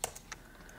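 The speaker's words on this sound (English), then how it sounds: "You click, you just tap, and you can start typing whatever you want to type." Keys clicking on an Apple wireless keyboard paired with an iPhone or iPad, a few quick close taps in a short burst with quiet between them.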